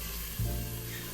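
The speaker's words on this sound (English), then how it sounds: "Hearing that sizzle" Chopped onion sizzles in olive oil in a pan, a steady close frying hiss that swells as the onion hits the hot oil, heard alone without talk.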